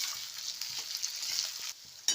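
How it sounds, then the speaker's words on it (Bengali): Tomatoes, salt and spices fry in a pan for chicken curry with potatoes, giving a bright, continuous sizzle with soft stirring scrapes and a sharper crackle flaring up near the end. "এবার আমি ভালোভাবে ভেজে নেব সব সিদ্ধ"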